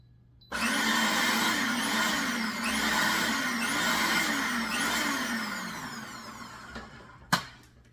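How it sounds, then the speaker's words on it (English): A countertop blender whirs loudly as it purees garlic and chickpeas for hummus, the motor pitch rising and falling in repeated surges for about six seconds before it cuts off, followed by a brief clatter. "Now you're going to blend it in really well. So the garlic blends in with the chickpea very, very, very well."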